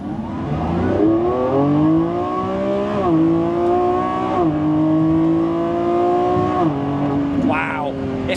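A 2025 Lamborghini Revuelto engine revs and climbs through gears while driving through curves, its rising whine dropping sharply at each of several upshifts, loud and close, with some voice-like sound in the background.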